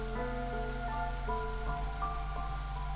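Light drizzle falls steadily and softly, a faint even patter over a sustained tonal hum, with no talking.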